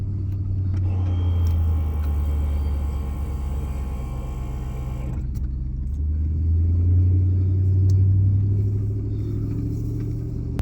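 A truck with a newly replaced U-joint drives along in two-wheel drive, its engine and road rumble heard steadily from inside the cab, swelling slightly as it picks up speed, no talking.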